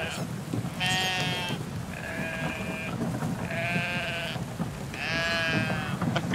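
Several video-game sheep bleats sound in a row over a steady background hum, each a drawn-out, wavering baa, fairly close and clear.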